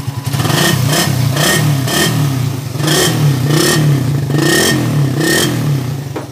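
A Raider 150 New Breed motorcycle engine running and revving, loud and close, with a steady mechanical clatter and repeated rhythmic throttle blips rising and falling.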